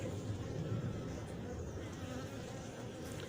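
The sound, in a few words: bees buzzing at a queenless hive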